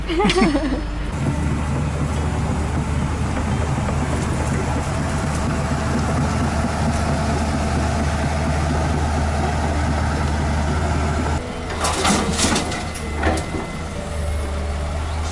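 A backhoe excavator's diesel engine works at a pond dig, a steady loud rumble close by for most of the stretch, with clanks and bursts of louder activity near the end.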